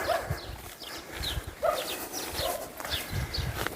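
A dog barks several times at a distance in Güzelyurt village, Cappadocia, Turkey, short sharp yelps spread irregularly over steady outdoor background noise.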